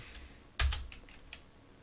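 Keys on an NEC PC-9821 computer keyboard are struck in a short burst, with one loud clack and a few lighter taps after it, heard up close against a quiet background with nobody talking.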